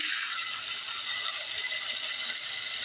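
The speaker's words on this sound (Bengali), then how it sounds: "আমি এটাতে একটু পানি দিয়ে দিচ্ছি" Water poured into a pot of frying chopped onions and bay leaves, made for an egg curry with split chickpea dal, gives a steady, close hissing rush for a few seconds with no talking.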